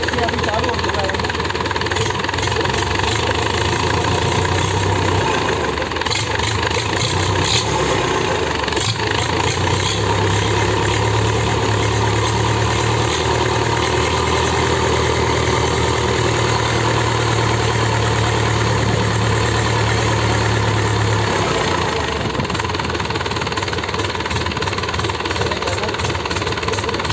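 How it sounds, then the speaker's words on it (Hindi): A freshly repaired engine idles smoothly and steadily, a continuous mechanical hum with even firing throughout, while people talk over it. "से चालू हो चुका है इंजन। हाँ, इसका देखिए फायरिंग कितना स्मूथ है"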